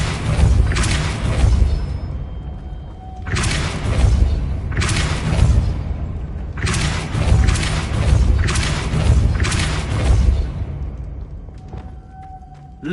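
Repeated Depulso spell blasts in Hogwarts Legacy, several loud booming bursts with whooshing tails arriving in a steady rhythm, each followed by a rumbling decay.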